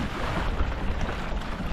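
Short, choppy waves slapping against a drifting fishing boat in sloppy sea conditions, a continuous dense wash of water and wind noise with no clear individual impacts.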